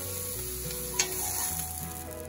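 A sea trout fillet sears in a hot pan, giving a steady, close sizzle and crackle that runs without a break, with one brief sharper pop partway through. No one speaks.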